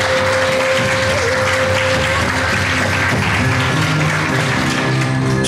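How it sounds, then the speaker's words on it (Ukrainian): Cheering and applause rise from a crowd behind a contestant at a televised cooking competition, a dense continuous wash of clapping that holds steady throughout. "Шум возгласов, аплодисментов сзади."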